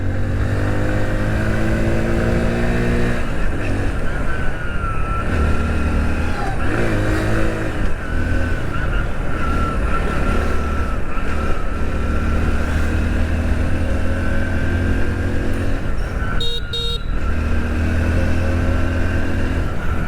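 A Hero Splendor Plus Flex Fuel motorcycle engine, running on ethanol blend fuel, revs and accelerates aggressively through its gears, loud and close, the pitch climbing and dropping repeatedly with no talking.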